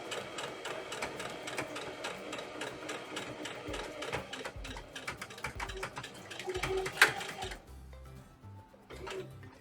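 A sewing machine stitches a dress seam near a pocket, running in a fast, steady mechanical patter for several seconds before stopping, followed by a few soft handling knocks.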